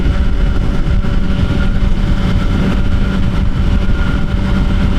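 A Suzuki GSX-R 1000 motorcycle engine under way, a loud steady rumbling drone with heavy wind buffeting close to the rider, holding a constant pitch throughout.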